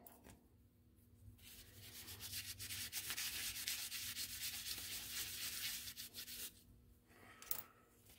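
Abrasive rubbing over virgin aluminum bar stock, deburring and cleaning its back side for a toolmaker's clamp kit, a steady scraping hiss that runs for several seconds before easing off, with one brief sharp scrape near the end.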